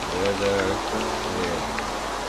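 Steady rain in Minecraft, a dense, even hiss of falling drops that runs the whole time, with someone talking over it.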